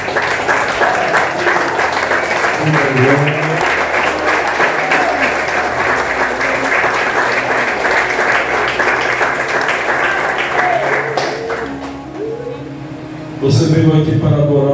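Church congregation applauding during a Sunday worship service, steady dense clapping sustained for over ten seconds, then fading as a voice speaks and the crowd noise swells again briefly near the end.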